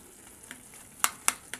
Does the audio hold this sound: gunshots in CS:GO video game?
no